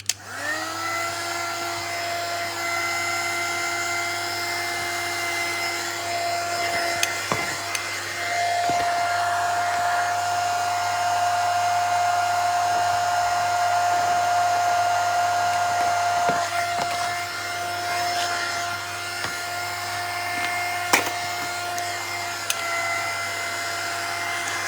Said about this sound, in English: Closing that and drying with the heat gun.